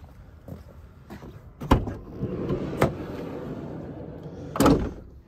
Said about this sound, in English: So, opening up your side loading door.